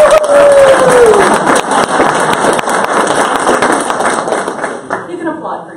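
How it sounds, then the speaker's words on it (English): An audience applauding at a hospital staff awards ceremony: dense, steady clapping that fills the room, then gradually thins and fades toward the end. "You can applaud for yourself."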